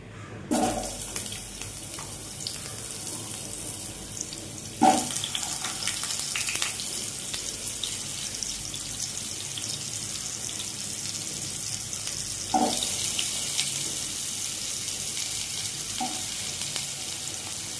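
Potatoes are dropped into hot mustard oil in a wok and fry with a steady, soft sizzle, broken by a few louder bursts of crackling as they are stirred, with no speech.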